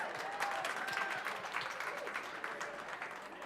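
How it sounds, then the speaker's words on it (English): Scattered audience clapping at an Ignite talk event in Austin, moderately loud and fairly steady throughout, with faint crowd murmur underneath. "Clap if you can hear me."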